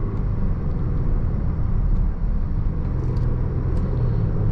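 A 2016 Range Rover Sport HSE SUV taken hard through a corner, its engine and road rumble a steady, loud low drone throughout with no talk over it.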